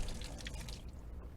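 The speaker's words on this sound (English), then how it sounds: "So I'll have like rinse water, and then I'll just wash my hands like this." Hands being washed with rinse water inside a van: a steady close splashing and dripping stream of water that runs continuously, then thins out near the end.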